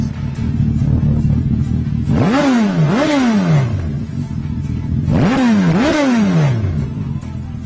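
A man imitates a 1000 cc motorcycle engine with his mouth, two pairs of rising-and-falling revving bursts over a steady buzzing idle-like drone, loud and close.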